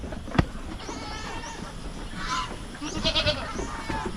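Goats bleat on a Philippine pig farm, a few wavering calls at moderate distance, with a sharp thump near the start and quiet background noise between the cries.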